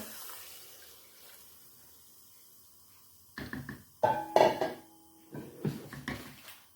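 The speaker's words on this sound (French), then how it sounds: "maintenant, je déglace avec le vin rouge." Red wine is poured into a hot pan to deglaze a boeuf bourguignon. A quiet stretch gives way to clanks and close liquid splashing and pouring bursts.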